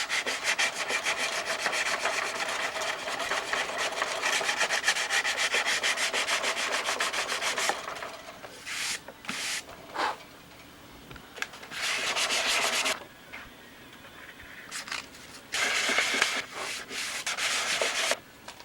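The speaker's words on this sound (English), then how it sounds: "we're sanding the wood so thin you can see the rib coming through" Steady rasping of sandpaper rubbed back and forth over wood, continuous at first, then in shorter bursts with brief pauses between strokes, close up.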